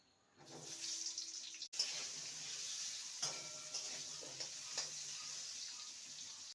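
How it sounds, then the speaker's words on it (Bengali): A medium-sized potato fries in oil with a steady close sizzle and crackle, broken by a brief gap and a few soft clinks and sharper pops, with no talking. "একটা মিডিয়াম সাইজের আলু নিয়েছি, আলুটাকে ভেজে নেব"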